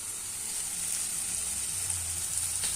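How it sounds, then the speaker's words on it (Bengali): Spice masala paste frying in a pan for a bhola fish curry, a soft steady sizzle close by, with faint stirring and a brief clink near the end. "মশলাটাকে ভালো করে একটু কষাচ্ছি"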